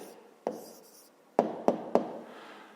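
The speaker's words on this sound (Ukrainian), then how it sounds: "Ну що ж, записуємо відповідь." Pen or pencil writing out a maths answer by hand on paper, a soft scratching stroke followed by three short sharp taps as it jots figures, close and quiet with no talk.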